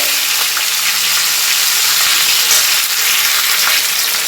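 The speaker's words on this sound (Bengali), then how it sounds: "সুন্দর করে মাছের মাথাটা ভেজে নিচ্ছি লাল লাল করে" A fish head fries in oil with a loud, continuous hissing sizzle, steady and close throughout.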